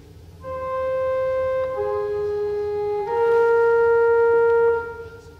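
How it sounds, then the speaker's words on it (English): Pipe organ open diapason 8-foot stop on the great: a short phrase of held, full and rounded notes that change pitch a few times and swell slightly toward the end, played alone without voices. "If we compare that sound now with the open diapason on the grate,"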